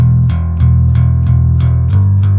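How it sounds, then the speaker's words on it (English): A bass guitar plays a steady run of evenly spaced picked notes, about two plucks a second, loud and close with no voices. "especially if you're playing with a pick, is to be able to do the up and down strokes."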